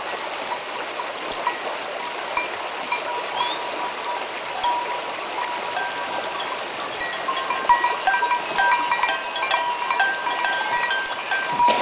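A herd of goats in Greece fills an outdoor soundscape with steady, dense bleating and shuffling, a constant wash of animal noise with no talking.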